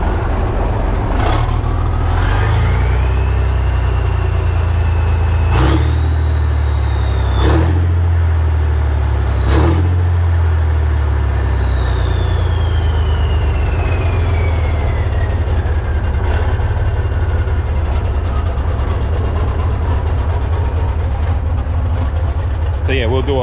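A cold drag truck engine, part of a build, is revved in a series of loud blips that climb and fall back, then one long rev slowly winds down to a steady idle, close and loud throughout.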